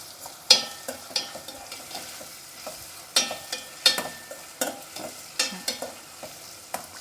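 Vegetables sauté in a hot pan for wheat upma, a soft sizzle broken by sharp, irregular clacks and scrapes of a spoon stirring against the pan, close and clear, with no talking.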